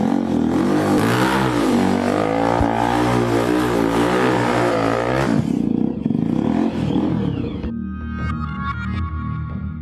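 A motorcycle engine revs hard with rising and falling pitch, then drops to a rough idle with some mechanical rattling near the end.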